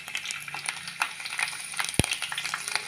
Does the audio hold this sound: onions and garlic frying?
yes